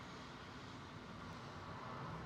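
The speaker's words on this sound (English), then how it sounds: "British A320 cutting the line" Distant jet roar from a British Airways Airbus A320 at Heathrow, a faint, steady broadband rush with no voices.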